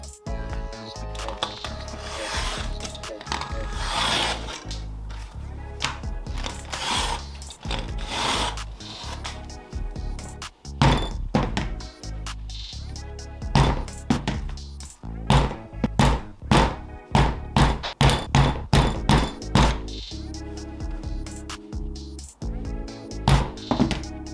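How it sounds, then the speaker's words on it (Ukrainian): Leather for a DIY belt case is cut and punched with holes: repeated sharp thunks and knocks with scraping and rubbing in between, the strikes growing denser and more regular toward the end, with a little talk. "Тепер вирізаємо і робимо отвори."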